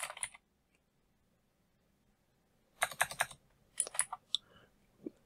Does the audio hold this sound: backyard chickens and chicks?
no